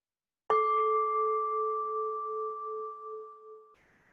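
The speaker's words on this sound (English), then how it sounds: "And I'll start by ringing the bell." A meditation bell is struck once at the start of an online retreat session, ringing out loud and clear with a long, steady sustained tone that slowly fades over about three seconds before a soft hiss follows.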